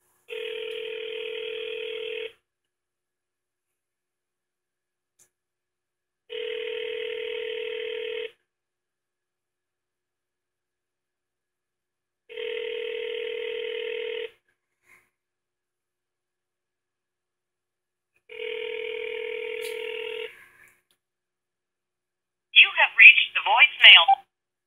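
Telephone ringback tone on a call, four evenly spaced double-tone rings with long silent gaps between, clear and alone, followed at the end by a brief burst of speech.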